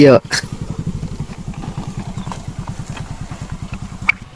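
A second-hand motorcycle engine putters with a steady, rapid thumping beat, close and fairly loud, after a short burst of voice at the start.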